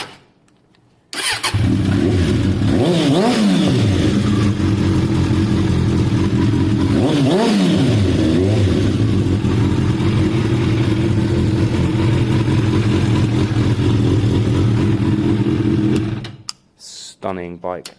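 A Suzuki Bandit 600 motorcycle engine runs loud and close while riding, its revs climbing and dropping in two clear swells before the throttle is rolled back, sustained for about fifteen seconds and then cutting off abruptly.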